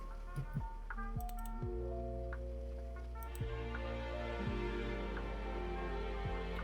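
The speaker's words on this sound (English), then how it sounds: "Moving forward, we have this strings section." A string-section patch from Arturia Analog Lab in a future bass track plays sustained synthetic chords that shift several times, with soft clicky transients at each change. It stays fairly quiet and alone, with no voices.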